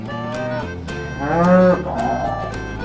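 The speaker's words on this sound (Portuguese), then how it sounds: "vaca." A cow gives one loud, drawn-out moo that swells and fades, over a steady musical background.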